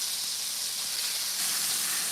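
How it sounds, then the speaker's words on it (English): Steak sizzles in a single pan, a steady bright hiss of searing meat heard close and alone throughout, growing slightly louder near the end. "this sizzling sound make me so good"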